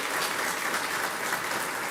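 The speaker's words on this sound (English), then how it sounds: "Can we please give her a round of applause?" Audience applause at a trails summit, a steady brief wash of many hands clapping in a hall, moderately loud and unbroken.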